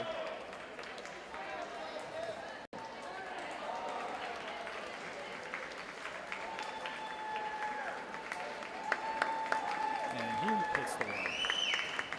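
Spectators at a high school swimming championship cheer for a swimmer in lane 2: a steady, dense crowd roar of shouts and clapping running throughout, with an announcer talking over it.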